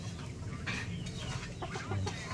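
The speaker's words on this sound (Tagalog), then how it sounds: "Tapos ito, may manok pa rin tayo dito." Chickens cluck softly nearby in short, irregular bursts over a low background rumble on a mountain farm, with no one speaking.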